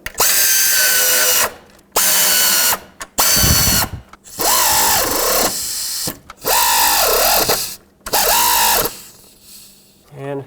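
Power drill driving three screws to mount the throttle cable bracket on the intake of a 1997-2003 Ford F-150, loud close whirring bursts with rising and falling pitch, separated by short pauses.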